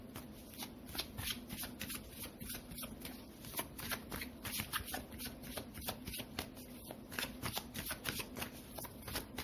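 Tarot cards shuffled by hand in a continuous run of quick riffling snaps and soft slides, close and steady for nearly ten seconds with no talking.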